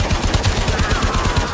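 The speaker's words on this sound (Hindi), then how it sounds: "मैं भी कहूँ गोलियां पड़ रही हैं लेकिन नजर नहीं आ रही" Rapid automatic gunfire in Warframe, a dense, evenly spaced burst of loud shots rattling for the whole moment with no voices over it.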